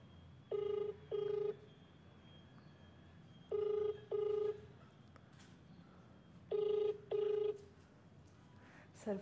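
A phone's ringback tone sounds while a call is placed, three pairs of short double rings spaced a few seconds apart, moderately loud over a quiet indoor background.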